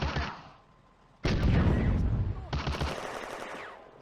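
Sustained machine-gun fire bursts out abruptly in the World War II Eastern Front strategy game Firefight, after a brief quieter patch, rattling densely and loudly for several seconds.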